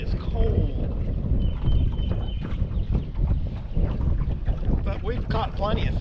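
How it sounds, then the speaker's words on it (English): Cold wind blows across a lake during bass fishing from a boat, a steady, gusty, rumbling rush over the microphone that fills the whole clip, with a faint voice briefly under it. "that wind is cold"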